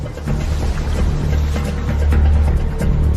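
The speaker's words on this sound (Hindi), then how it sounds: "लहरों की आवाज सुनाई दे रही है।" River waves wash near the shore in a wilderness survival setting, a loud, continuous churning rush of water with no talking.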